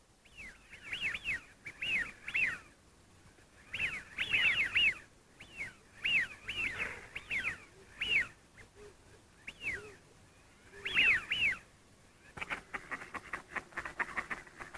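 Ducks and other wildfowl, including shovelers, call on flooded washes in repeated bursts of whistling, wheezy notes, moderately near, with short pauses between groups of calls.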